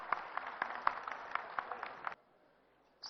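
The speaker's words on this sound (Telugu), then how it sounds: "ఒకసారి గట్టిగా చప్పట్లు కొడదాం అందరం" An audience at the 50-year golden jubilee celebration of the Telugu film Soggadu claps in a moderate, uneven burst of applause lasting about two seconds, then falls quiet.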